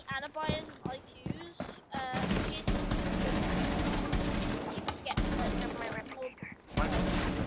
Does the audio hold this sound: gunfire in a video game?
yes